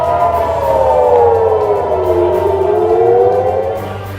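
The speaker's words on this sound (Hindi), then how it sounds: "इजरायली इलाके में लगातार सायरनों की आवाज गूंज रही है।" Air raid sirens wail over Israeli territory near the Lebanon border during Hezbollah rocket attacks, a loud sustained tone sliding slowly downward then rising again, with layered sirens overlapping and fading slightly at the end.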